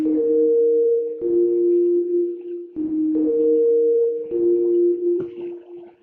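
A soft sine pad from the Sytrus synth in FL Studio, its default preset with reduced attack, plays sustained two-note chords that shift in pitch every second or so. The tones are smooth, pure and fairly loud.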